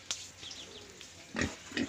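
A pig grunts a few times, fairly close but quiet, at a Philippine farm in Miagao, Iloilo, with soft background noise between the grunts.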